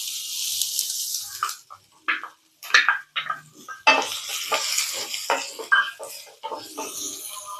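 Sliced large onion dropped into hot oil in a pan, giving a bright, steady sizzle broken by bursts of stirring and scraping against the pan, close and loud.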